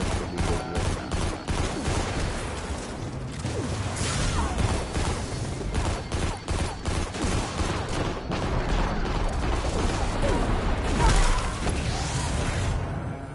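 Shooter game gunfire keeps up a dense, loud and continuous barrage of rapid shots and impacts. There is no talking.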